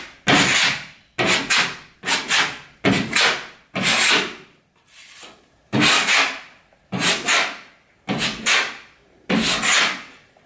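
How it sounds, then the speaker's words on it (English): Putty knife or trowel scraping and smoothing wall patch compound to feather it out, in about ten regular, loud, close strokes with brief pauses between, no voices. "We'll just smooth that all out."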